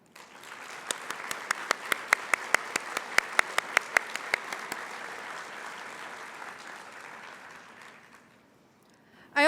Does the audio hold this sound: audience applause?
yes